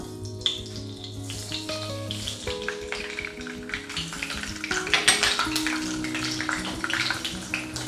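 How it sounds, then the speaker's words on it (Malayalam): Oil crackles and spits steadily as mustard seeds splutter in a hot pan, close by, with bursts of popping growing denser midway. "നമുക്കിതിലേക്ക് ഒരു ടീസ്പൂൺ കടുക് ചേർത്ത് കൊടുക്കാം"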